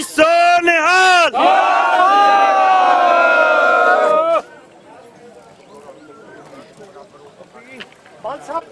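A Sikh crowd at a protest for the release of Sikh prisoners roars a loud, sustained jaikara response in unison for several seconds, then falls away to quieter scattered voices and murmuring.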